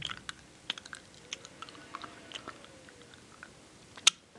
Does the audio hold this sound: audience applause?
no